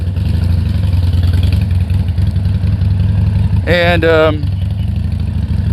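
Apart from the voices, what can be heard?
Harley-Davidson Sportster 1200 Custom engine idling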